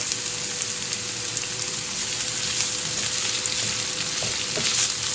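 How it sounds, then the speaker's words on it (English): Chopped onion and garlic sizzle steadily in a hot pot, a dense, even crackle of frying that holds at moderate loudness throughout with a few faint clinks near the end. "Let's put some onions in. That's like half an onion. See, the pot is nice and hot. Some garlic."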